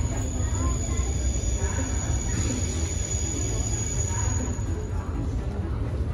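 Zurich train station fills the air with a constant, dense rumble of trains and crowd noise, with no distinct events standing out.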